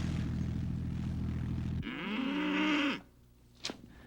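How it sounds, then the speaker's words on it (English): Beef cattle on a family farm in Bonavista Bay, Newfoundland, letting out a loud, drawn-out moo close by, with a steady background rumble before it and a brief sharp noise after. "the herd of beef cattle they've developed over the years"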